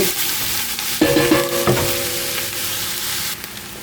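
Onions sizzle steadily in a hot pan, softening for a tomato sauce, with a few clinks and scrapes of a spatula stirring near the start, close and continuous.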